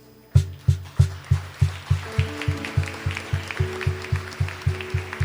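A church congregation claps in steady unison, with sharp regular beats over a sustained musical tone and faint background voices.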